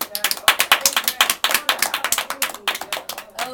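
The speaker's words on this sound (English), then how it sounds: "let's make a clap in the studio for the cast" A studio audience claps for the cast of The Amen Corner, producing sharp, distinct hand claps in a quick, uneven rhythm close to the microphone, with no talking.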